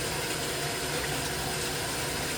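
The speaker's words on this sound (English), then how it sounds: "Shower's on." A shower runs into a pink tub being filled with cool water, a steady unbroken hiss and rush of falling water with no voices.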